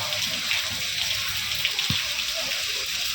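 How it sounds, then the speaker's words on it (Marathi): Steady rain falling, a continuous hiss of drops with no pauses, heard fairly close and evenly loud, with no speech. "पाऊस बघा सकाळपासून पाऊस चालू आहे"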